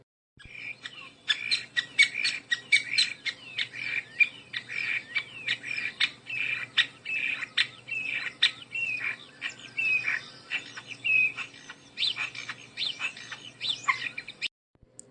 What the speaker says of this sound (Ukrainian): Шпак.